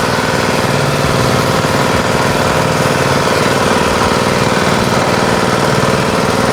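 A diesel engine beside a bore well on a farm runs loud and close, with a steady throbbing chug that holds constant throughout.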